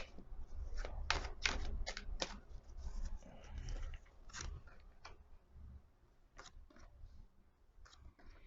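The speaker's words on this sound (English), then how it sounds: "One more shuffle." Tarot cards being shuffled by hand, a series of crisp riffling bursts with quieter card taps in between, fairly close and soft, with no voice.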